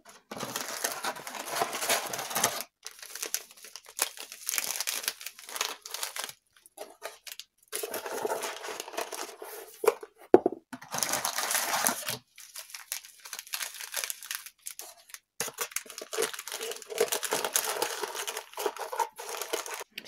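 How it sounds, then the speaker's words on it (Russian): Tea bags being packed into a handmade tea-house gift box give close, quiet papery crinkling and rustling in bursts separated by short silences. "Теперь можно закладывать чайные пакетики."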